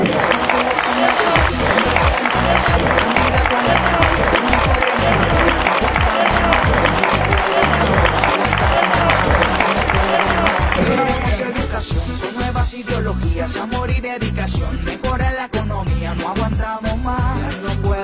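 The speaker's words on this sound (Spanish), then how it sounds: "un aplauso muy grande" Sustained audience applause and crowd noise fill a political campaign rally in Cúcuta, Colombia, loud and dense for about eleven seconds before thinning into a lighter, more scattered clapping with voices beneath.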